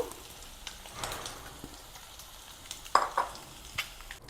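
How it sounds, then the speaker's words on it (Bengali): Eggs and potatoes fry in oil with a faint, low sizzle, broken by a few soft stirring scrapes and small pops, quiet and close with no voices. "এভাবে একটু ভেজে নেব ডিম আর আলু"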